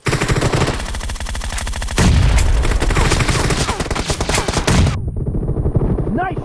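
Rapid automatic gunfire in the mobile battle royale game Battlegrounds Mobile India, loud dense bursts of shots with heavier blasts mid-way, cutting off abruptly into quieter game sounds.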